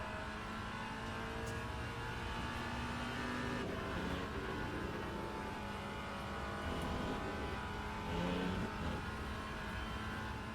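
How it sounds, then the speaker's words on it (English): A Porsche race car in the Le Mans Ultimate racing game, following close behind. Its engine gives a steady, dense drone that stays at an even loudness throughout, with no voices. "Porsche sliding behind us"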